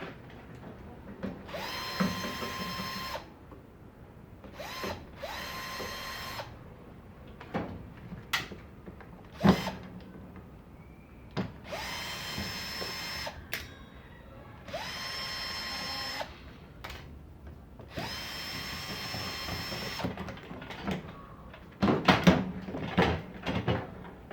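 A power drill whirs in repeated short bursts while parts are unscrewed from an oven with a cooktop being taken apart, with clanks and knocks of metal pieces in between the runs.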